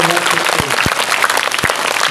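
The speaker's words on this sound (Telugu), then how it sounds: "గట్టిగా చప్పట్లు కొట్టి మనస్ఫూర్తిగా" An audience at a Kurnool lecture breaks into loud, dense applause, a continuous clatter of many hands clapping close by, with a voice heard over it.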